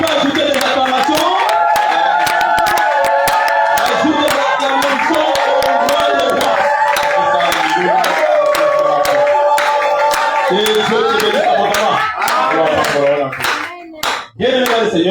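A church congregation claps loudly in a fast rhythm with acclamations and shouting voices, the crowd noise dense and continuous before easing near the end.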